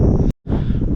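Wind gusting across an island hilltop on Moreton Island, a loud rough rush buffeting the microphone, broken by a brief near-silent gap before the blustering resumes.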